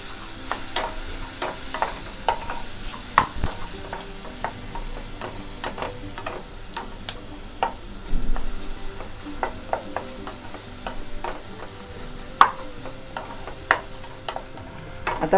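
Onion frying on low gas in a pan for a spicy okra masala, with steady close sizzling and frequent sharp scrapes and taps of a spoon stirring throughout.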